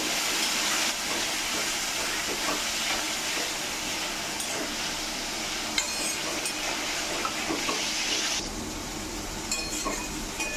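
Water pours steadily into a pan of sautéed potato and eggplant for a thin fish curry, a continuous loud rushing gush lasting several seconds with a brief shift in tone near the end, and no voices.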